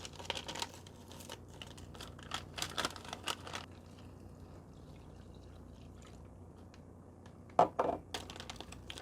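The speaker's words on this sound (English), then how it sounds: "Now you mix this in the bag." Orange carbohydrate electrolyte beverage powder being mixed in the plastic bag of a 2014 U.S. MRE, close crinkling and rustling in bursts, a quiet pause, then a sharper crinkle near the end.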